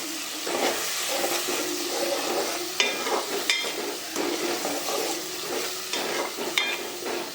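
Vegetables with tomato, coriander and spring onion stirred in a hot pan, a continuous close sizzle with repeated scraping spoon strokes and a few sharp clinks against the metal, no voices.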